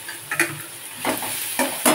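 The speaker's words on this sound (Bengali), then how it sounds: "পেঁয়াজটা একটু নাড়াচাড়া করে নিলাম, ভীষণ গরম তেল, খুব তাড়াতাড়ি ভাজা হয়ে যাবে" Onion and garlic fry in very hot oil while being stirred, producing short sizzling bursts and scraping strokes in an uneven rhythm, close and moderately loud, with no voices.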